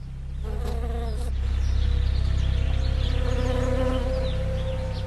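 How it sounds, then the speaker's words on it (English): Honey bees swarm in a California almond orchard during spring pollination, a dense, steady buzz of countless wings that stays close and loud throughout, swelling slightly midway. "Every spring, billions of bees are brought here to help pollinate the almond trees."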